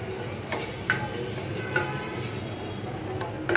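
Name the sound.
stirring latti (khinda) batter in a pan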